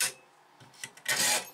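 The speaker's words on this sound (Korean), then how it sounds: "확실히 톱질 느낌이 철과는 다릅니다." A hand saw cutting a piece of titanium, rasping strokes heard up close: a short scrape, a few quieter pulls, then a longer, louder grinding stroke.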